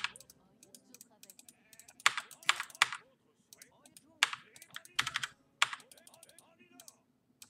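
Sheep bleat in the strategy game Empires Apart, several short cries scattered among frequent keyboard typing and mouse clicks, with some quiet talk underneath.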